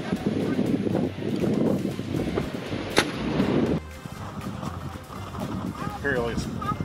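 A single sharp cannon blast booms at a historic fort on parade grounds, amid crowd chatter and outdoor noise, with people talking before and after.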